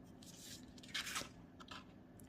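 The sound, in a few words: pen drawing ivy leaves using a stencil ruler on paper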